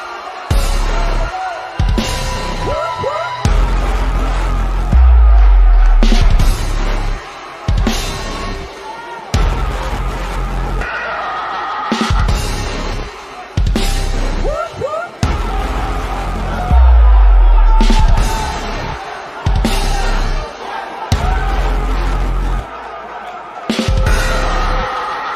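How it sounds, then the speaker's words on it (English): Arena crowd in the WWE 2K19 wrestling game roaring and cheering in loud surges, with a commentator's voice talking over the noise. "Sounds to me, guys, like this crowd is ready to get this night started."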